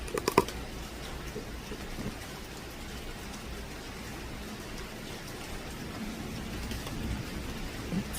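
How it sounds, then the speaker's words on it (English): Steady rain falls outdoors in Jamaica beside an open-air cooking spot, a soft continuous patter with a few sharper taps near the start, fairly faint and even throughout. "The rain is coming down."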